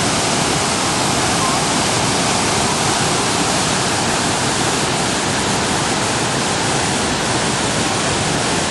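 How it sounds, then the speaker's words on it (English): Aravelam waterfall in Goa, India, a loud, deafening roar of gushing water that fills the whole stretch as a constant dense rush heard up close, with no voices over it. "Look at that gush on the roar of the water."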